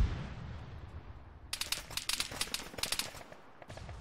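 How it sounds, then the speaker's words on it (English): Rapid gunfire in the Arma 3 video game during a tank engagement, a dense rattling volley of closely spaced shots starting after a quieter rumbling stretch, moderately loud with brief gaps. "Enemy armor still active, and he's shooting at you."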